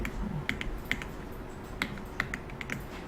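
Clicks on a computer during a Hangul word-processor exercise: sharp, faint, close taps in quick pairs and singles against a quiet background, with no voice.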